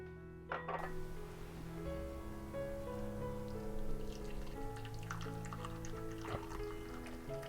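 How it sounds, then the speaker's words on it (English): Moka pot coffee pours into a cup with a steady liquid trickle and rising filling tone, small clinks and drips throughout, fairly quiet and close with no talking. "Now you're ready to just pour your coffee."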